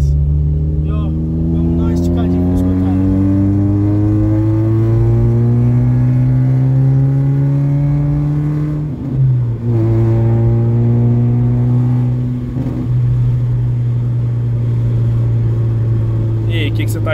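Volkswagen Polo 1.6 fitted with a straight-through exhaust, its engine revving loud and close, the note climbing and holding, then dropping and rising again, with a couple of brief pops between revs.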